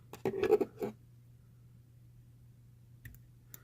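Scissors trim excess material while a Root Beer Woolly Bugger fly is tied, giving a quick cluster of close, crisp snips followed by a long quiet pause and one more faint snip.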